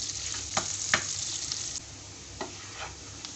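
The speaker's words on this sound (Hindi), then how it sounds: "इसको गोल्डन ब्राउन होने तक फ्राई करूँगी।" Sliced small onions frying in a couple of spoonfuls of oil, cooked to a light golden brown: a steady close sizzle with scattered sharp crackles and pops, and no talking.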